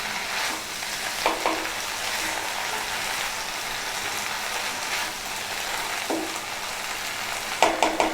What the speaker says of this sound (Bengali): ধনেপাতা কুচি দিয়ে দিচ্ছি। দিয়ে আবার একটু নাড়াচাড়া করছি।